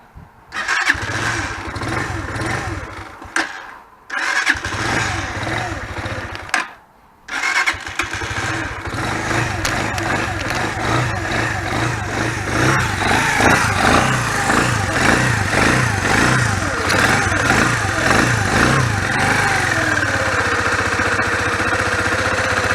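A Lexmoto ZSB 125 motorcycle engine with its EGR valve blanked off cranks and catches, then settles into a steady, rumbling idle that continues loudly and evenly for a long stretch, close by.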